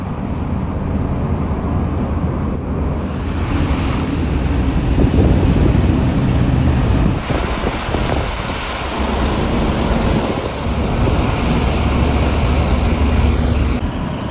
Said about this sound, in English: I saw the hovercraft arriving again